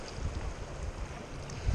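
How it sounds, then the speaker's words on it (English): Choppy bay water slaps and washes around a small boat under steady wind, a continuous broadband rush with faint low thumps and no voices. "the waves are picking up"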